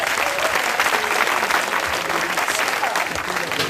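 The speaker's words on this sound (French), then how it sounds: "Sous vos acclamations, s'il vous plaît" Dense crowd applause fills a hall during an Annunciation feast celebration, continuous clapping at steady volume throughout, with faint voices mixed underneath.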